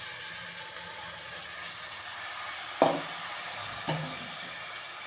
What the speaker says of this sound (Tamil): இந்த அரிசி பருப்பை சேர்த்துடலாம்.